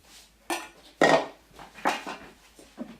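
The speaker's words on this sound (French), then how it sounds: "on va mettre les 80 ml de sucre dans Le coulis? coulis et mélanger" A spoon stirs 80 ml of sugar into raspberry coulis in a bowl, making a few sharp scraping and clinking strokes with short pauses between them, close and clear with no talking.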